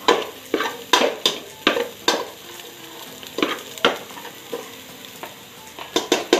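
Garlic frying in a pan until golden brown for Ilocano sinanglaw, with a constant sizzle broken by repeated scraping stirs at an uneven rhythm, close and clear.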